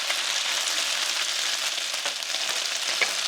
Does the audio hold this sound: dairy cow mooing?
no